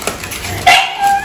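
A dog gives a few short, high barks and yips close by, over faint background noise.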